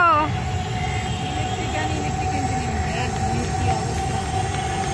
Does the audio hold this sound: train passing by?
yes